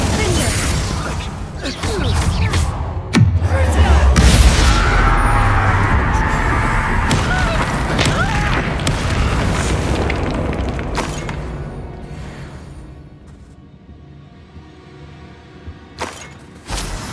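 Fiery Incendio spell blasts in Hogwarts Legacy combat, a loud boom near three seconds followed by roaring, crackling bursts that fade toward the end, with a voice shouting over the action.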